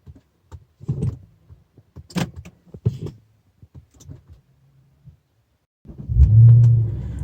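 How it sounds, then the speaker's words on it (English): A 2009-or-later Infiniti car is started after faint clicks, taps and door or lock sounds, and its engine catches near the end with a low, close rumble. "let's start the car and see what happens"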